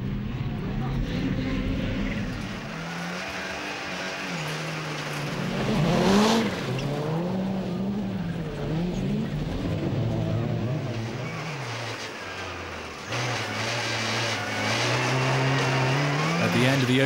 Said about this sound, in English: Toye gets the best start ahead of Tolmer, Peu is third, followed by Payet and Serrazin.